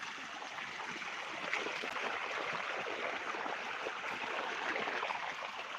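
Water gushes steadily from a 500 motor pump lifting water up a 150-foot rise, a continuous hissing, splashing rush, moderately loud and unbroken, with no talking.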